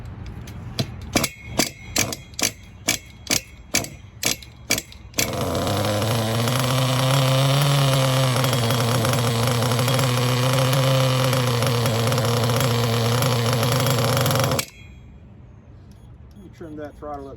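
A Nitro CEN Genesis RC car's small nitro engine first fires in a row of sharp, evenly spaced pops. It then catches and screams at a steady, loud, buzzing high pitch for several seconds before cutting out, leaving faint background noise.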